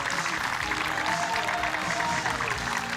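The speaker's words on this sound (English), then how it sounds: "And the crowd really showing their appreciation here for her." Spectators at a para dressage world championship applaud after a test, a steady wash of clapping from a large crowd that holds evenly throughout.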